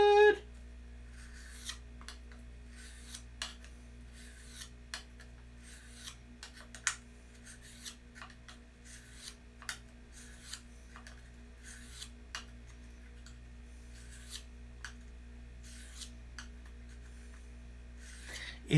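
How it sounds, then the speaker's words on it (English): A blade is sharpened by hand with a steady series of faint, dry rasping strokes in a quiet setting, each scrape short and evenly spaced. "It's really tough to sharpen right into the corner there."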